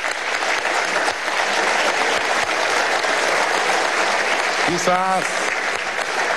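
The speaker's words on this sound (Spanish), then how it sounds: "sentía como todos ustedes la necesidad de aplaudir a esa comisión que ha hecho un trabajo extraordinario" Members of Venezuela's National Assembly applaud the commission in a session chamber, sustained loud clapping throughout, with a brief spoken word near the end rising over it.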